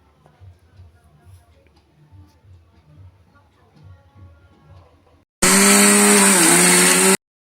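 An electric grinder whirs loudly for about two seconds, blending a spice paste of green chillies and whole cumin for mustard prawns, after quieter kitchen clicks and tapping.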